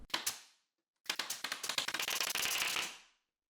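A staple gun fires into 1/4 inch plywood cabinet backs, with a couple of sharp snaps followed by a rapid burst of quick staple shots close by.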